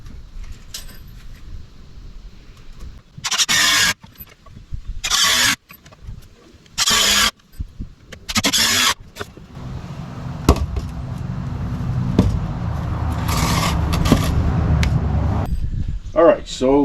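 A power driver sinks screws into the wooden beams of a homemade bass boat stand, giving four short, loud whirring bursts followed by a long, steadier stretch of mechanical noise.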